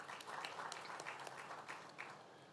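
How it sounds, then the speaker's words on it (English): Audience applause at a sports awards ceremony, a quiet, distant patter of many hands clapping steadily for a few seconds. "A warm round of applause for"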